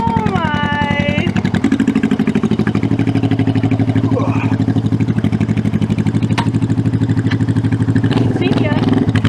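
A 1971 Honda CB350 motorcycle engine idles steadily and close up with an even, throaty pulse, while people talk over it at the start and near the end.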